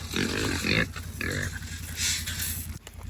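Several pigs grunt and squeal up close, in a busy, overlapping stream of oinks that runs the whole time with short gaps.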